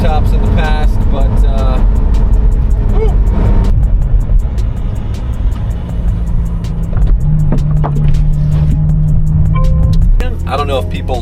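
A 2025 McLaren Artura Spider hybrid supercar revs and accelerates loudly, with rising engine tones and gear shifts, then settles to a steady hum, while people talk over parts of it.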